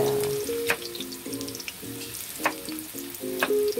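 Potato pieces fry in hot oil for a simple beef stew, giving a steady crackling sizzle with occasional louder pops, while a melodic tune plays alongside.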